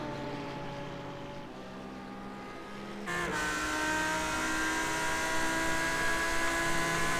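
Simulated race cars lapping Silverstone in iRacing, engines droning steadily with harmonic tones, growing louder and fuller partway through as another car closes in, no talk.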